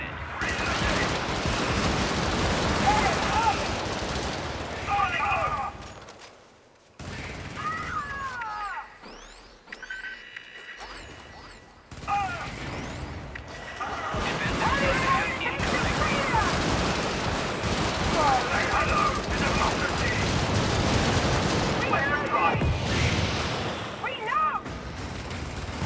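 Video game turret gunfire from multiple deployed turrets during a squad mission against bugs, with loud, dense bursts of rapid shots, a quiet gap in the middle, then sustained firing, under talk.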